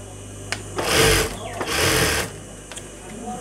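A sewing machine stitching fabric for a boy's salwar runs in two close, loud bursts of rapid whirring, with quieter pauses and faint background noise between them.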